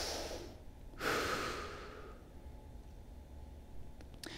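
Rib cage breathing during a mobility exercise, one deep audible inhale followed by a long fading exhale, close and quiet with no talk.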